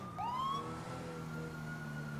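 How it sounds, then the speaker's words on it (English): Whelen 295 police car siren in the video game GTA 5, a single rising wail that settles into a steady high tone, clear and unobstructed with no talking. "The siren I'm using is the Wheeland 295."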